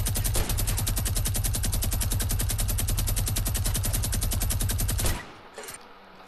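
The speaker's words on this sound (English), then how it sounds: "A minigun." A minigun firing in Fortnite, a long unbroken stream of rapid, evenly spaced shots, loud and close, for about five seconds before cutting off abruptly into quieter game ambience.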